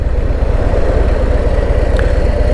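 Harley-Davidson Road Glide motorcycle engine idling close by, a deep, loud, steady low rumble with even pulsing throughout.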